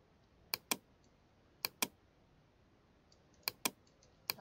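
Computer keyboard key presses while working in Photoshop, crisp clicks in close pairs repeated three times plus one more at the end, faint and near against a quiet background.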